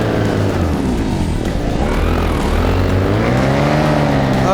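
Paramotor engine at a championship event, running steadily and loudly throughout with a continuous droning, slightly wavering pitch, no talk over it.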